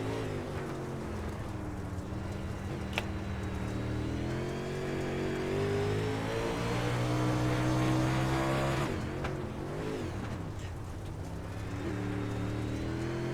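A late model dirt race car circling Eldora at night barely on the throttle, its engine droning steadily and loudly before rising and falling as it passes, with other engines blending in and no talk.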